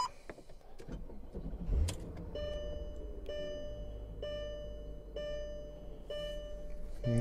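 A 2000 Mercedes-Benz S55L AMG engine starts, with a sharp crank burst near the start, then settles into a steady low idle rumble. Dashboard chimes and electronic tones repeat above the engine.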